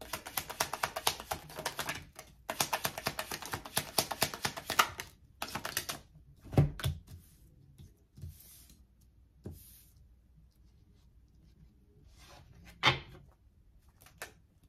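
Tarot cards are taken out and handled, with rapid papery riffling and shuffling clicks in bursts early on, then sparser taps and soft knocks, close by and without talk.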